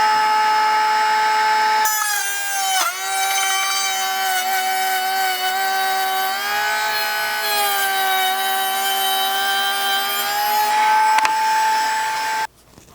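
A router running steadily as it makes plunge cuts in plywood for a taper cutting jig; a loud sustained whine with shifting pitch that starts after a short pause, holds for about ten seconds and cuts off at the end.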